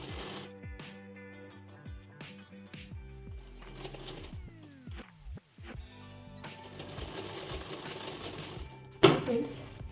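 Close, steady whir and rapid needle clatter from a sewing machine stitching a tucked belt blouse, running in stop-start stretches with short pauses, under a voice speaking Hindi.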